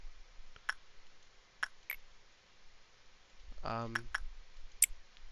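A computer mouse clicking while someone plays the game Lobotomy Corporation, with sparse single clicks close up and a brief low in-game tone partway through.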